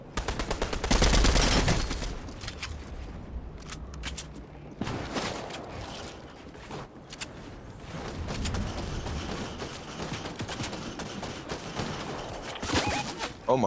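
Gunfire in a team shooter video game: a loud opening burst of rapid fire, then scattered single cracks and sniper shots with quieter mechanical clicks between volleys.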